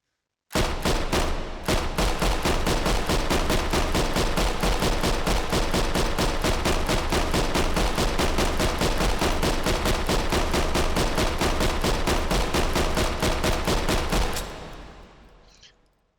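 A PPSh-41 submachine gun fires in the VR game H3VR, one long continuous burst of rapid, evenly spaced shots lasting about fourteen seconds, loud and close, then stopping abruptly with a short fading tail.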